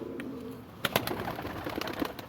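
Sialkoti rooftop pigeons coo in low, soft murmurs at first, then a burst of sharper calls, rustling and wing flaps fills the rest, close and moderately loud.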